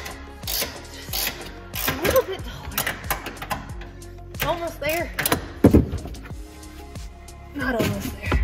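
Trim clips and fasteners click, pop and ratchet in scattered close bursts as the trunk liner is pulled out of a Subaru WRX STI to reach the rear coilover top bolts.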